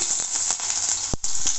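Oil heating in a pan for Bombay chutney, hissing and sizzling in a steady, close crackle with a brief clunk near the end, no talking.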